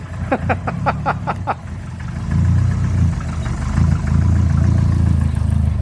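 A Toyota Starlet engine running on a Haltech ECU idles with a steady low rumble that swells louder partway through, while a series of short chirping squeaks sound early on.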